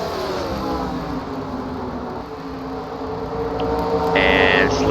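Race cars from the 2008 PASS Series lapping the Myrtle Beach track, a steady engine roar held at moderate distance that swells louder toward the end, with no talk over it.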